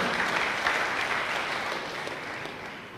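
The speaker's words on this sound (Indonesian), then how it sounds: "Berikan tepuk tangan yang meriah, betul." Church congregation clapping during a sermon, a lively round of many hands that starts strong and gradually fades, with no speech over it.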